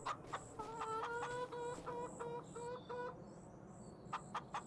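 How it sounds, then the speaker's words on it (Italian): Chickens cluck in short, repeated bursts in a farming video game, a few birds close by over a low background hum with no talk. "Guardate, abbiamo le galline, finalmente."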